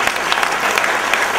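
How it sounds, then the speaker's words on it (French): Loud, dense applause from an awards-ceremony audience honoring a newspaper team, a continuous bright roar of many hands clapping close by with no pauses. "On va applaudir"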